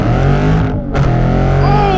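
A Dodge Charger Scat Pack's loud engine roars hard during a 3,300 RPM launch-control acceleration, with a brief dip partway through and strong, steady rumble throughout.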